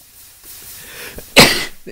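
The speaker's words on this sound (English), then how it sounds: "I'm gonna sneeze." A single sharp sneeze bursts out after a faint intake of breath, close and fairly loud, followed by a brief trailing sound.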